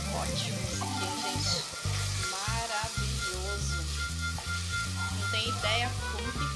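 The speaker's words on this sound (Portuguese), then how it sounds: "Como eu mostrei pra vocês agora, a carne moída, tá vendo? Ó, tô refogando ela" Ground beef sautéing in a hot pan, with a constant close crackling sizzle and occasional stirring scrapes while someone talks over it.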